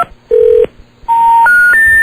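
Loud, clean telephone keypad tones, a sequence of distinct sustained beeps at different pitches with short gaps between them, heard alone with no talking.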